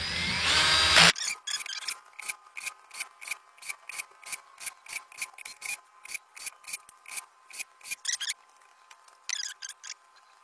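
A ratchet tool driving bolts to secure a battery pack plate: a burst of whirring, then a long run of evenly spaced rasping clicks close by, with no talk.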